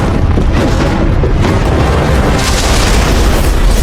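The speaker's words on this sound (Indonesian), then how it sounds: "Beruntung 81 berhasil menghindari ledakan besar dan akhirnya robot itu pun hancur" A massive explosion from a film as a robot is destroyed roars continuously, loud and close, with deep rumbling booms and bursts sustained throughout, with no voices.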